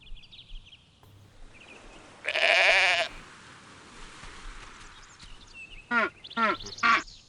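Sheep bleat in the god-sim video game Black and White. After a short burst of other game noise, three or four wavering bleats come close together near the end, loud and clear over a quiet background.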